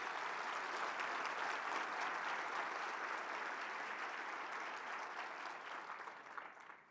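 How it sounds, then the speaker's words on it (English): Applause from a conference audience at a ski area COO summit, a steady, fairly quiet roll of many hands clapping for nearly seven seconds before tapering off at the end. "Huge round of applause for the conference team for the breakfast this morning."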